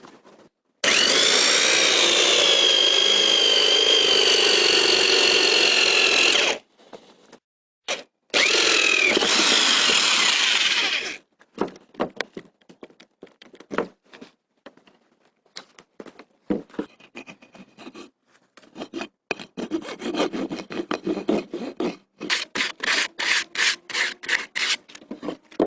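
A corded drill fitted with a hole saw bores through a wooden nest-box panel, giving two long loud grinding bursts followed by scattered scraping, knocking and clattering as the cut is finished and the wood is handled.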